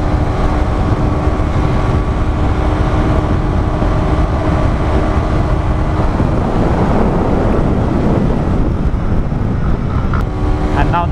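A Honda CB300R motorcycle held at high speed in sixth gear, its engine a steady loud drone under heavy wind rush that continues unbroken throughout, with faint talk mixed in.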